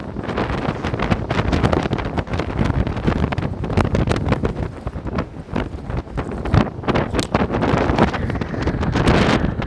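Strong wind in New York City buffeting the microphone, a continuous loud roar with gusty thumps and rustling, filling the whole stretch without pause.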